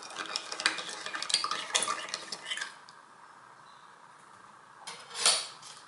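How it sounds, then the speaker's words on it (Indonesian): A utensil stirs briskly in a bowl, scraping and clinking for a few seconds, then quiet before a short final scrape. "Ini kita aduk."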